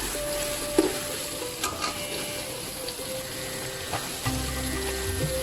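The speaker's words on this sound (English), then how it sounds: "keep frying all this on high flame" A steady low sizzle of ginger garlic paste frying in a pan on high flame, with occasional light clinks and scrapes of stirring throughout.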